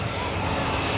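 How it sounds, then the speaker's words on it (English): A Christen Eagle aerobatic propeller biplane climbs straight up at the 2018 Joint Base McGuire-Dix-Lakehurst airshow, its engine a steady, loud, continuous roaring drone with no breaks. "The Christen Eagle going straight up in the skies."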